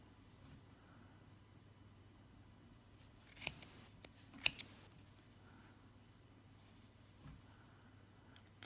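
Scissors snip through the yarn floats of a knitted swatch: a few faint, crisp snips close together near the middle, with a quiet hum and near silence on either side.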